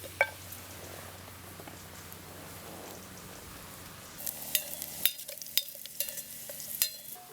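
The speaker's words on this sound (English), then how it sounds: "A little bit of oil. And in with the dandelion root." Dandelion root hits hot oil in a pan, a soft hiss that turns into faint crackling and popping sizzle with small irregular spits, quiet and up close.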